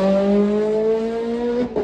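A race car at the Speed Vegas track holds a steady, loud engine drone with rising harmonics, then a brief tire squeal near the end, close by and with no voices.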